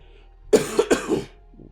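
A short fit of coughing, three or four harsh bursts in quick succession, close up and otherwise quiet.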